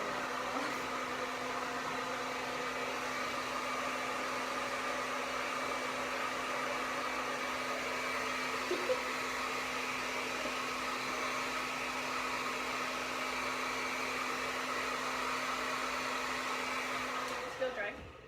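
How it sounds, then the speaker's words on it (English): A hair dryer blows on fresh paint in one loud, steady whir held close for about seventeen seconds before it clicks off and winds down. "Let's hit it with the hairdryer real quick."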